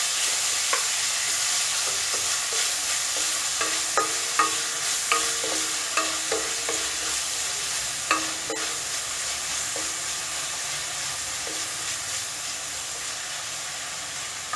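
Salted mixed vegetables for a restaurant-style veg kurma sautéing in a pan: a low steady sizzle with a scatter of spatula clinks and scrapes, quiet and close.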